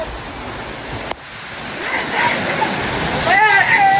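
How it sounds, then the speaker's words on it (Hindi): A waterfall on a rocky hillside trail near Mumbai makes a steady, broad rush of falling water that grows slightly louder. A person speaks briefly toward the end. "ओहो very nice waterfall, very nice"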